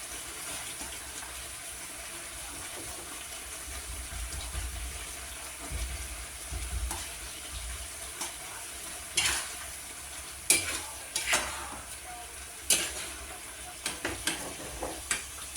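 Chicken cubes for a curry frying and being stirred in a pan, a steady soft sizzle with intermittent scraping and clattering strokes growing more frequent toward the end, no talking.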